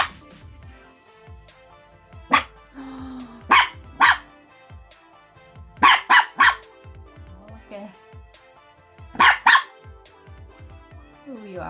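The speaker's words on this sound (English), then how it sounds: "So you can bark at everyone." A pet dog barks sharply at people through a window indoors, with short bursts of loud, close barks in clusters of two and three separated by quiet pauses.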